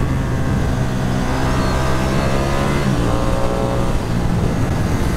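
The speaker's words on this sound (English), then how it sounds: "that engine loves to be revved" A Ducati Streetfighter V2 motorcycle's twin engine revs hard while riding, a loud, close, sustained roar with rising pitch sweeps, steady and unbroken, with no voices.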